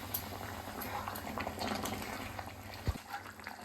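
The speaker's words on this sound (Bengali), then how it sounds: "এখন গরম জল দিয়ে দিচ্ছি" Hot water pours into a pan of jackfruit curry, giving a steady bubbling, splashing hiss close by with a brief low thump near the end, no voices over it.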